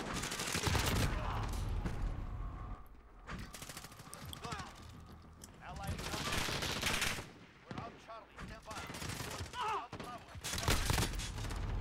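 Automatic gunfire rattles in Call of Duty: Modern Warfare multiplayer, with loud, close bursts of rapid shots separated by brief lulls and some mechanical clatter.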